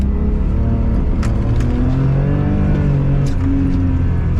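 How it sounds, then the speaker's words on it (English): A misfiring car engine struggling to rev, a rough, uneven drone with brief sputtering pops and mechanical ratcheting, loud and close, no voices. "Misfiring car is about to get me crashed."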